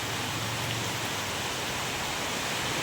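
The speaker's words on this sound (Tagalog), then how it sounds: "Mula gabi itong ulan dito sa amin." Steady, heavy overnight rainfall hisses evenly across the whole clip, a dense unbroken wash of drops with no voices.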